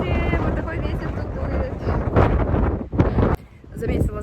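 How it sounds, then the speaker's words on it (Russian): Strong wind gusts roar and buffet the microphone on an exposed hiking trail in Madeira, a loud continuous rumble that swells and drops, with someone talking through it. "Здесь дует сильный ветер."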